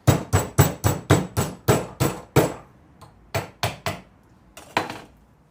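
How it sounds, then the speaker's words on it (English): Sharp metallic hammer blows on metal bent in a vise ring out close by, a steady run of about eight strikes, a short pause, then several more spaced hits. "Take a hammer."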